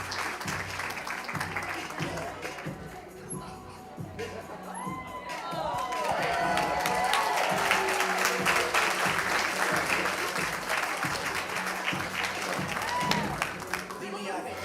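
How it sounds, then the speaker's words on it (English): An audience at a school event breaks into sustained applause, dense clapping swelling and holding with cheers, whoops and shouting children mixed in, while voices talk over parts of it. "Everyone, join me in giving a great round of applause to our guest speaker,"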